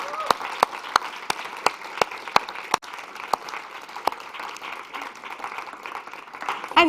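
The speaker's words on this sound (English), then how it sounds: "And please join me with a big applause for all of them." Audience applause for a youth advisory panel at a dialogue event on adaptation action, a steady patter of many hands with a few sharp nearby claps standing out, fading toward the end.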